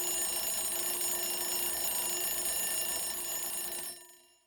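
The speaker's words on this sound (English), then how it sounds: "I hear a ringing." An alarm bell rings loud and continuous as a harsh metallic clatter for about four seconds, then cuts off abruptly into silence.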